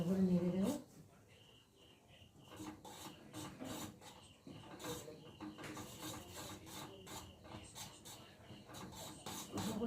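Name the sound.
stirring Maggi noodles with milk in a pan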